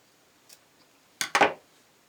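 Scissors cut the extra twine ends off a small pawprint ornament: a faint tick, then two quick, close, sharp snips in a quiet room.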